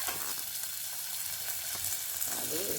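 Curry leaves and green chillies fry in hot oil in a pan, giving a loud, continuous crackling sizzle throughout with faint stirring.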